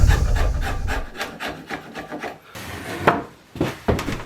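Hand chisel paring thin wooden gate boards, a series of short scraping and rasping strokes at close range, with a few sharper cuts near the end.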